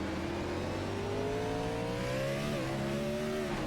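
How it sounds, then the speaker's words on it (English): On-board engine of the number 88 NASCAR Winston Cup race car at the 2005 Dodge Save Mart 350, a loud continuous drone that climbs through the revs with a brief dip before rising again. "You get the full revs there on board"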